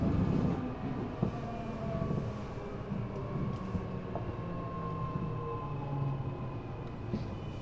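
An Eidan 6000 series subway car on the Tokyo Metro Chiyoda Line, fitted with a reused 7000 series VF motor, runs steadily with a loud, continuous low rumble and wheel noise, overlaid by faint whining motor tones and occasional rail clicks.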